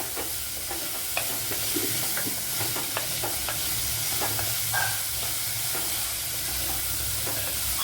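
Onions with a little salt sautéing in a pan for a cauliflower curry, giving a steady close sizzle and hiss with repeated scraping and stirring ticks throughout.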